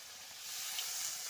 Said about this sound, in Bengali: তো তেলটা গরম হয়ে গেছে। তো আমি একটু পরিমাণে কালো জিরে ফোড়ন দিয়ে দিলাম।